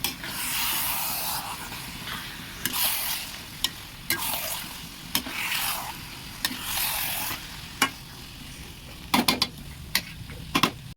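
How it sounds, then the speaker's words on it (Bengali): About 1.5 kilos of chicken cooking in a gravy in a pan sizzles softly as a spoon stirs through it, with repeated sharp clacks and scrapes against the metal at an uneven rhythm. "চিকেনটা ছেড়ে দিলাম, গ্রেভি তৈরি হয়ে গেছে।"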